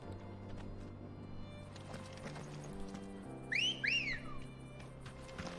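Two short rising whistles in the video game Final Fantasy XVI ring out over steady synthesized game music and hoofbeat-like clatter, clear and close.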